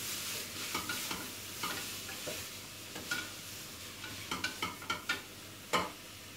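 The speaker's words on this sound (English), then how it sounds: "Stir these carrots" Carrots stirred in a pan over low sizzling, with a string of sharp scraping and knocking utensil strokes that cluster toward the end, close and moderately quiet, no talking.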